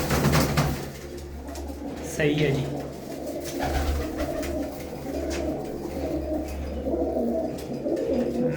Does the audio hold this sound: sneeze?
no